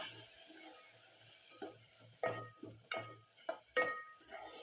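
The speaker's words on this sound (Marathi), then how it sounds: "आणि थोडासा हा स्टॉक टाकूया म्हणजे छान तळ जाईल मसाला सगळा कच्चा राहणार नाही" Stock is poured into a pan of sizzling masala, with a steady hiss and several sharp bursts of spitting and clinks as the liquid hits the hot spices.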